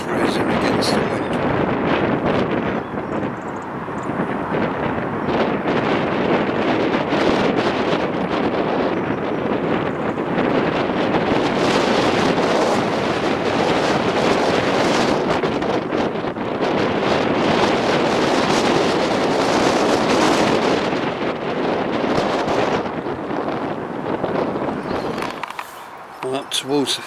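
Strong wind buffets the microphone outdoors beside open water, a continuous roaring rush that barely lets up, with a voice speaking over it.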